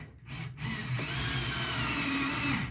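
A power drill drives construction screws with a Torx bit, whirring in a sustained close grind that builds after a short start and holds steadily to the end.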